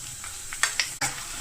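Green chilli fries with ginger and garlic in hot oil, a soft close sizzle broken by a few quick stirring scrapes over barely a second and a half, with no voices.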